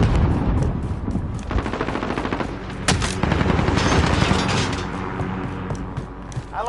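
Enemy gunfire in Call of Duty Modern Warfare rattles in dense automatic bursts and sharp single shots, loud and continuous, with a few heavier booming hits among the fire.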